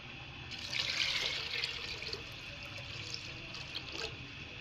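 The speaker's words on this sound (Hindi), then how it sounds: "मैं इसमें ऐड कर दूंगी वाटर" Water poured into a pressure cooker holding chickpeas and salt, a steady splashing rush for about four seconds, fairly quiet and close.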